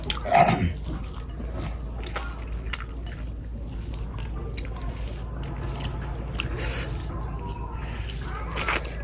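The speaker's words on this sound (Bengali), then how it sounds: "মুরগির মাংস দিয়ে খাচ্ছে এখন।" Rice being eaten by hand with boiled chicken curry, giving soft, wet biting and chewing sounds close to the microphone, with a brief louder bite at the start.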